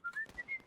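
An officer character whistles in a Civil War-era battle game with Confederate artillery, giving a few short, quiet melodic notes with brief gaps between them.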